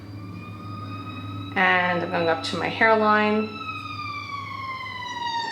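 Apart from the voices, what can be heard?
fire engine sirens passing outside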